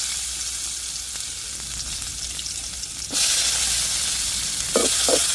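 Loud sizzling of onions frying in hot oil, a steady crackling hiss that jumps louder partway through as more food hits the pan.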